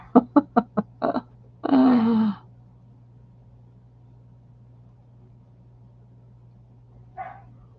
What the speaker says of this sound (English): The dogs are playing upstairs.